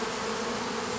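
Honeybees at a hive entrance, many foragers returning with pollen, give off a dense, steady buzzing drone, close and continuous, with no voices.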